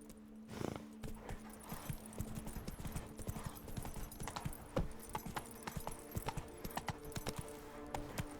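Horse hooves clatter at a gallop in The Witcher 3, a quick irregular run of sharp clip-clops that carries on throughout at moderate loudness with no talk.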